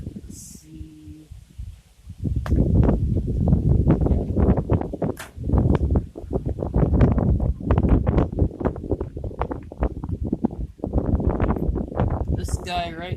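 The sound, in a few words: strong wind blowing outdoors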